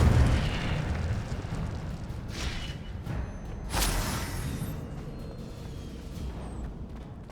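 An Incendio fire spell goes off in Hogwarts Legacy on PS5 with a loud, broad roaring burst. A second surge follows mid-clip, then the sound settles into a sustained rushing rumble, with no talking.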